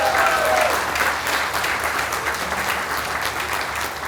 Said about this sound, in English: Can we have a round of applause for all the inductees?